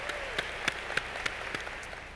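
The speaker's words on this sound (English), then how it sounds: "I'd like to give him a round of applause right now just for what he's done for all of us." A graduation ceremony crowd applauds, a soft, distant patter of clapping with a few louder individual claps popping out at a roughly regular pace.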